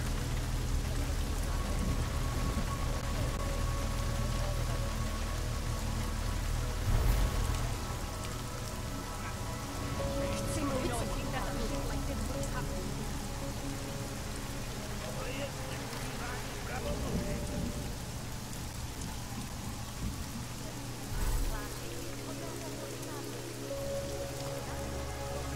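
Steady rain falls on surfaces in the video game Deus Ex: Mankind Divided, a constant patter lasting throughout, with faint low rumbles and tonal game sounds underneath.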